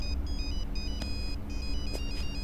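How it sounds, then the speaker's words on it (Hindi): A mobile phone ringtone sounds loudly, a repeating electronic melody in short rhythmic bursts of bright tones over a noisy background. "ये मेरी रिंगटोन नहीं है।"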